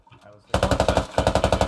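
Machine gun firing in the Squad video game: a fast, evenly paced string of loud, close shots, a short gap, then a second rapid burst.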